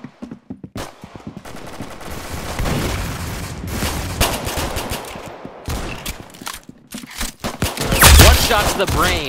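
Rapid bursts of gunfire from the Roblox game Arsenal, with dense automatic volleys and sharper single shots running throughout, loud and close, peaking in a heavy blast near the end.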